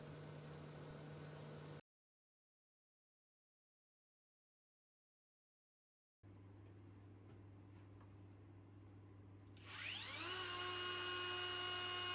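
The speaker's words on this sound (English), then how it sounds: "I'm going to make a groove with my router" A router cutting a groove in wood gives a steady high-pitched whine close by, cuts out for several seconds, then returns and rises into a louder screaming cut.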